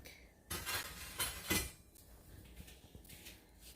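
Dishes being handled on a shelf of plates and bowls, producing a few brief clinks and clatters of crockery at close range, loudest in the first half and fading to quieter rustling afterward.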